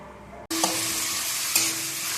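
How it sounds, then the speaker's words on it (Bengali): Sliced onions hit hot oil for beresta, starting an abrupt loud sizzle that holds steady and close, with a couple of brief stirring clinks. "পেঁয়াজ দিয়ে দিলাম তেল দিয়ে এখন তৈরি হবে বেরেস্তা"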